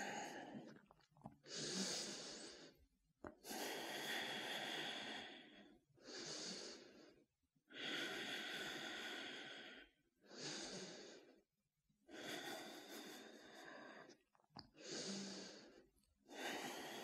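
Slow, steady breathing while holding a yoga headstand during a vinyasa flow, long audible inhales and exhales repeating in an even rhythm, close and fairly quiet with no talk.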